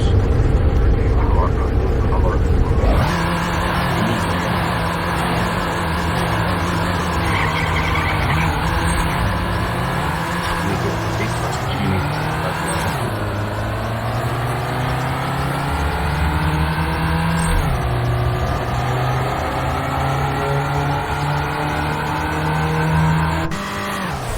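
A race car engine in the Nitro Nation video game revs hard and high, its pitch climbing and dropping through repeated gear shifts, loud and steady for the whole stretch, with a voice talking over it.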